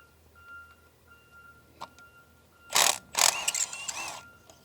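A ratchet on a 14mm spark plug socket with an extension clicks in two quick close bursts as a spark plug is loosened on a 2021 Toyota RAV4, after a few faint clicks.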